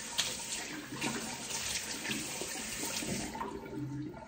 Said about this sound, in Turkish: Evet, yüzümü yıkadım.